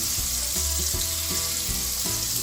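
Hunted quail pieces frying in a pan, a loud steady hiss and crackle of sizzling fat throughout, with a few soft low thumps as the pieces are turned.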